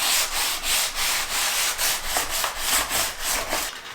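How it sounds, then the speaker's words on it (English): Steady back-and-forth sanding of a toilet paper roll vase using 220 grit sandpaper wrapped around a block, roughly eight rhythmic rasping strokes, close and even. "I'm going to be using some 220 grit sandpaper. I'm going to wind it around the block."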